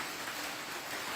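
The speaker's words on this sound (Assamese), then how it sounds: "মধ্য অসম নামনি অসমতো এতিয়া প্ৰবল বৃষ্টিপাত হোৱা পৰিলক্ষিত হৈছে" Heavy rain pours during a thunderstorm in Assam, a dense, steady hiss that fills the short stretch without pause, with no voices.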